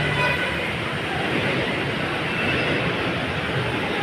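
A steady, broad rumble of a train drawing nearer, filling the whole stretch with continuous low roar and no speech.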